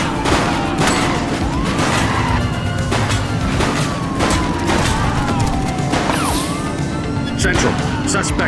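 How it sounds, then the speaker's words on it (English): Dense, loud volleys of gunfire aimed at a vehicle in The Precinct police video game, rapid shots piling up continuously under shouted voices and game noise. "Shots fired! Shoot the vehicle!"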